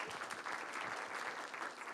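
An audience at a talk applauding a speaker being introduced, with fast, dense clapping from a crowd at steady strength throughout, fairly faint and without voices.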